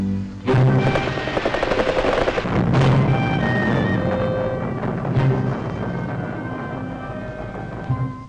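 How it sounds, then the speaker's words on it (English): Loud, continuous rumbling bursts of heavy naval gunfire destroying sea mines, with booming blasts and rolling echoes, no speech. "the diabolical instruments have to be destroyed by gunfire"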